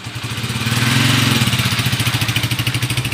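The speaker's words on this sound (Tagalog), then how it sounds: "Ayun, napaka-smooth na ng makina ni boss." A freshly repaired motorcycle engine idles smoothly and loudly up close, its steady rhythmic thrum with a gentle pulsing beat and a slight rise in revs early on.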